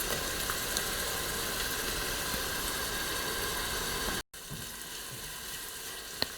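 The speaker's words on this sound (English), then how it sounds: "So we are sauteing this on medium heat." Garlic and onion sauteing in a pan over medium heat give a steady, even sizzle that holds for several seconds, breaks off for a moment and then comes back a little quieter.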